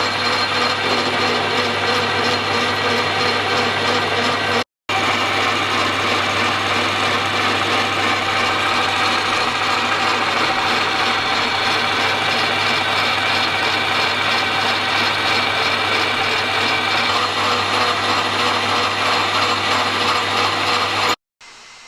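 A metal lathe turns down an old, rough piece of stock in a home workshop, giving a loud, continuous machining drone with a steady low hum and a scraping cutting noise, broken by two brief cutouts.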